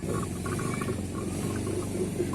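Faint water gurgling and trickling inside a hydroponic PVC pipe, with a soft hissing, bubbling flow that continues steadily.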